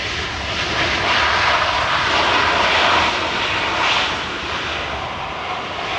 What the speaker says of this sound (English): It's always a heavy landing for the Detroit flight from Rock City.